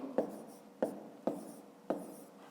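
Pen or pencil writing numbers by hand during a Ukrainian fifth-grade math exercise, four short scratchy strokes spaced evenly, close and quiet with no voice.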